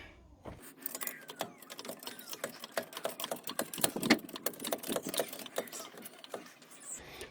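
A trolley jack is pumped up under a car's front subframe, a quiet run of rapid ratcheting clicks and metallic taps in an uneven rhythm, close by and sustained for several seconds.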